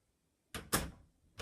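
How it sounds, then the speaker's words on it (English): A door is opened, with a sharp knock-like clack followed by a louder rattling thump, then another brief bump at the end, all close by in a quiet room. "hopefully when we open the door"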